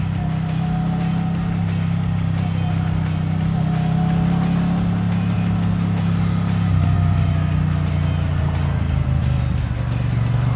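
Triumph Bonneville T100 motorcycle riding through Chicago's Pilsen neighborhood, its engine holding a steady, throbbing drone with slight shifts in pitch as speed changes, loud and continuous throughout with no speech.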